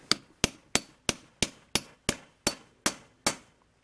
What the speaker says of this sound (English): Just give this a few taps now to level it off.